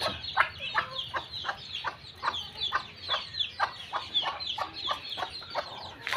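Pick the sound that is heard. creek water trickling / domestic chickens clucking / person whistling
domestic chickens clucking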